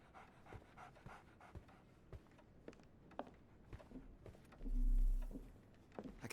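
Close, steady dog panting from the game Sherlock Holmes The Awakened, rapid breathy puffs repeating throughout over faint background ambience, with a brief low rumble near the end and no voices.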